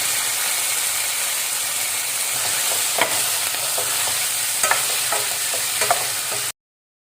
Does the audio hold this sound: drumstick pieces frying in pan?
yes